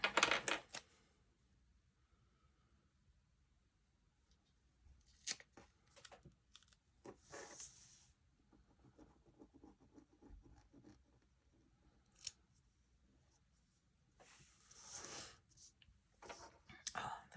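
Decorative tape being cut and applied while decorating a planner: quiet close snips, rustles and small taps in scattered bursts, with soft whispered talk between them.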